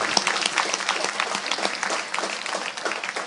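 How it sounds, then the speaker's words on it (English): Luncheon audience at a Law Day keynote giving a round of applause, a steady wash of many hands clapping at moderate volume, even and continuous without a break. "I think we all should give Vielka a great round of applause"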